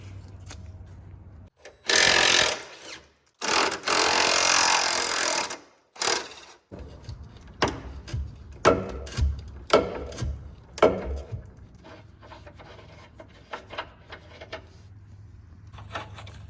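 Close, loud bursts of a power tool loosening the rear bumper bolts on a 4x4 Ford Econoline van: two long sustained runs, then a string of short clanks and rattles as the bolts come free, no voices.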